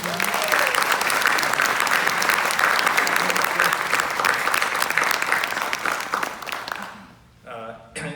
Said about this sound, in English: I do think we owe a round of applause to our to that rendition of the Star Spangled Banner.